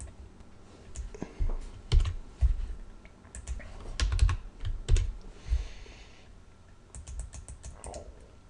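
Code being typed on a computer keyboard: close, irregular bursts of key clicks with short pauses between runs and a few heavier thumps, alone without talk.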